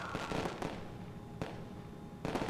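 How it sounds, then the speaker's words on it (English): Fireworks exploding at a Fourth of July celebration, with several sharp booming bursts spaced irregularly, each ringing out over a continuous crackling, rumbling background. "Can't you just enjoy the fireworks?"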